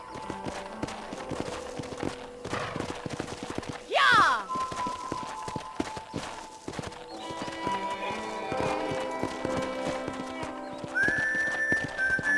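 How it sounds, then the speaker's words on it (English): Rhythmic clip-clop of horse hooves from the video game Red Dead Redemption continues throughout, with a sharp neigh partway through and a whistling tone near the end, over light background sound. "let's see if you can still ride a horse"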